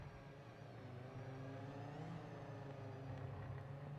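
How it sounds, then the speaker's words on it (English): Race car engines in the Project Motor Racing video game, a steady distant hum of several cars at speed with a slight rising pitch, faint and continuous without talk. "So many of these cars sound awesome too."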